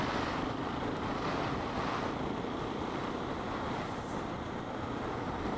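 Strong, bitter wind roaring steadily over a rider on a KTM 690 motorcycle, a loud continuous broadband rush of wind noise with no pauses and no speech.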